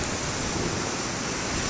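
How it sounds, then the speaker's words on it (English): Big ocean waves break and roll in a steady, continuous roar of surf, loud and close, with broadband wash and no voices or other sounds standing out. "Wish I could do an hour clip with 20-foot waves here."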